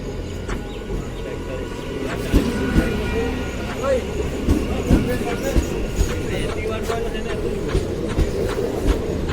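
A train at a railway station in India, with steady low rumbling and clattering from the rail cars, and people talking nearby throughout.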